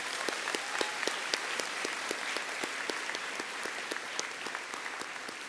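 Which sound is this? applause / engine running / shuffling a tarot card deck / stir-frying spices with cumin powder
applause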